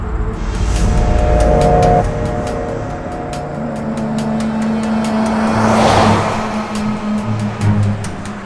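Car driving on a road, a loud engine roar with tire noise that swells and fades as it moves past, engine tones shifting through the middle, no talk over it.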